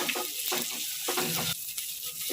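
Onions frying in a pan until golden brown, a close, hissing sizzle broken by repeated scraping stirs of a utensil, with no voices.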